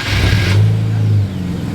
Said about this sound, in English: All right, car starts, that's good.